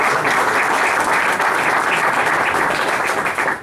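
Sustained audience applause at a school presentation evening, a dense, steady wash of many hands clapping at full loudness throughout, easing slightly only at the very end.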